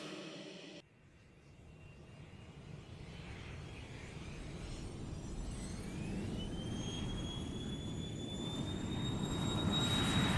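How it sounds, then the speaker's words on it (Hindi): Hawker 800 business jet taking off from a runway, its engine whine rising in pitch and growing steadily louder into a sustained roar after an abrupt start, no talk. "प्लेन अभी रनवे से टेक ऑफ करने ही वाला था।"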